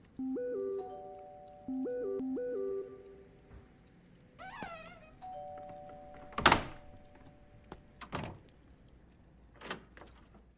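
A door slams in the horror game Fears to Fathom: Woodbury, one sharp loud thud following electronic phone-like tones and chirps, with a few softer knocks and bumps afterward and no talk.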